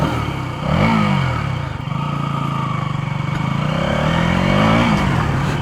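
KTM Duke 200 motorcycle accelerating on an offroad ride, its single engine droning loud and close with rising and falling pitch as the throttle opens, plus steady wind and road noise throughout.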